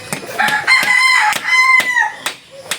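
A rooster crows close by, one long loud drawn-out call, with sharp clicks and a brief cluck at the end.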